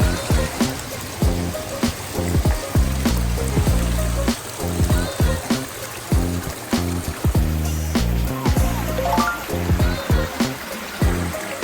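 A backyard waterfall water feature flows with a continuous splashing, gurgling rush, close and fairly loud, with irregular droplet spatters throughout and no voices.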